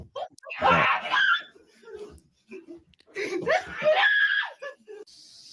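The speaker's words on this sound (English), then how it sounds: "Is that guy screaming like that?" A man screams in loud, strained bursts, two long outcries separated by a short pause, with laughter mixed in and other voices around.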